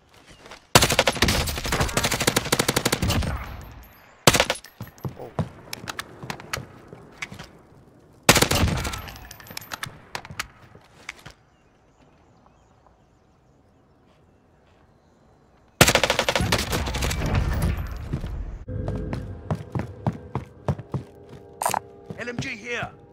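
Bursts of light machine gun fire in a Call of Duty Warzone duos match come in several loud sustained volleys separated by pauses, with a long quiet stretch before a final heavy burst, while players talk over the action.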